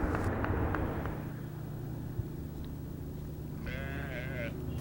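Sheep bleat in a few wavering calls, mostly near the end, over a steady background hum that may be a passing vehicle.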